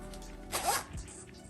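Short zip of a Tommy Hilfiger bag's zipper, one quick rasping pull lasting a fraction of a second, close by, amid quiet room noise.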